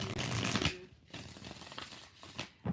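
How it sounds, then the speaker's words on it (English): Tarot cards being shuffled by hand in a few quick riffling bursts, a dense crisp rush at first, then thinner papery flicks and light taps, close and alone. "5 shuffles."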